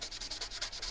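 Steel knife blade being scuffed by hand with 600 grit sandpaper, rapid rhythmic back-and-forth rasping strokes, close and fairly quiet, with no talking.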